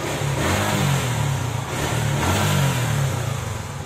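A carbureted Suzuki Gixxer 155 motorcycle engine revs loudly and close up, rising and falling in repeated throttle blips over a rough, rumbling idle, with no talk.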